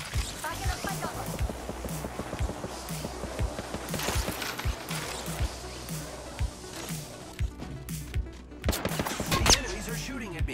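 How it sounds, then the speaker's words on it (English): Repeated bursts of enemy gunfire in the Apex Legends game, rapid volleys cracking out at mid distance with a louder flurry near the end, alongside footstep-like taps and other game effects. "The enemies are shooting at me."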